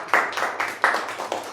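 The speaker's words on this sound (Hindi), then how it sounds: "चलो ताली बजा दो इनके लिए" A classroom of students claps for classmates in a short burst, the distinct hand claps landing in a quick uneven rhythm, fairly close and with no talking over them.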